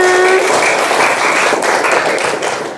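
Classroom children applaud a classmate, a dense burst of many small hands clapping together for a few seconds, close and loud, fading slightly at the end, with a faint voice briefly under it.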